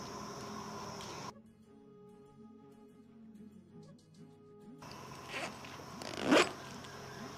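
Clothes go into a bag and a zipper rasps shut, a short close zip burst near the end after quiet rustling, with no talk over it.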